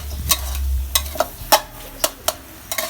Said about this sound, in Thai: เดี๋ยวพี่ดาจะผัดให้มันงวดลงนิดนึง